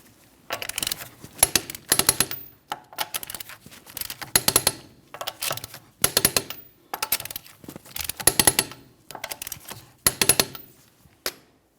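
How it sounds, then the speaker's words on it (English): A torque wrench tightens the wheel lug nuts on a 2012-2015 Honda Civic in a crisscross order, making repeated bursts of sharp metallic clicking and ratcheting, close and fairly clear, with short pauses between each nut. "we'll be torquing these lug nuts in a crisscross manner to that 80 foot-pounds"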